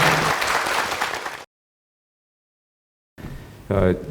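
An audience at a formal meeting applauds in a dense burst that cuts off abruptly into silence, then resumes briefly with a voice speaking over it.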